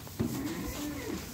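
A young bull calf at a cattle and calf sale in Sylhet gives one short, low moo close by, with no talking around it.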